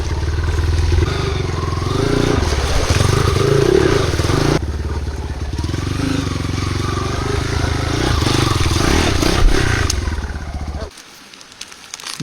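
A motorcycle rides over rough rocky ground, its engine droning steadily beneath clattering and scraping of tires on stones, close and continuous before cutting out near the end.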